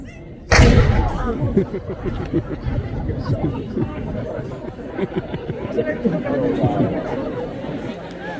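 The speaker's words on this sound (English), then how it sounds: "Then there's the 1 o'clock boom time. There's the cannon," The one o'clock gun at Edinburgh Castle fires once as a single sharp cannon boom, followed by a crowd chattering loudly nearby for several seconds.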